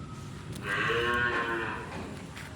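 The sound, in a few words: cows mooing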